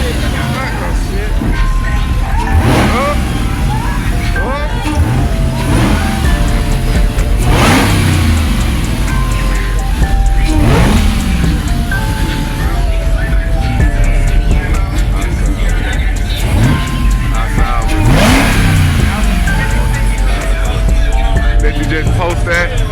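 A car at a street car meet revs hard again and again, its engine rising and falling in loud surges under heavy background music, with people talking nearby.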